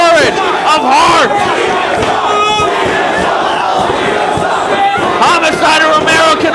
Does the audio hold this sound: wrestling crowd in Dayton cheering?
yes